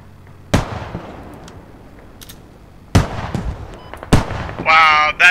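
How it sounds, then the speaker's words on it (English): In the video game Squad, explosions from tank rockets and mortars come as sharp, heavy booms followed by rumbling debris, three main blasts spread across the clip, with a crackling burst near the end and a voice heard between them. "that tank was so mad at me, it used its whole rocket just for me"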